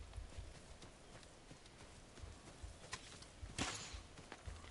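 A horse's hooves walk in a steady clip-clop in the video game Ghost of Tsushima. The hoofbeats are close but soft, and a brief brighter rustle cuts in near the end.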